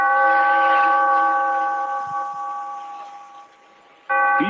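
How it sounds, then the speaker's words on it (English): A single deep bell tolls in an old-time radio drama, its long humming ring fading slowly before a second strike sounds near the end, loud and alone. "Bellkeeper, toll the bell."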